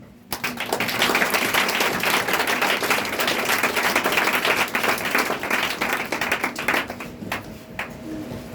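A church congregation applauding to acclaim the Holy Spirit: sustained, dense clapping from a crowd that holds steady for several seconds before thinning out near the end.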